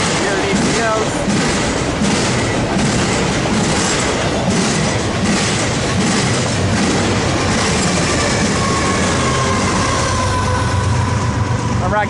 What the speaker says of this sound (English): the eastbound port stacker just passed right now